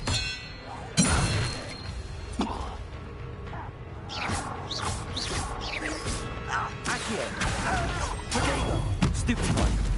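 A spell cast in Hogwarts Legacy lands with a sharp crash and clang, followed by whooshing magical effects and metallic rings over a busy game soundscape, with a voice shouting throughout.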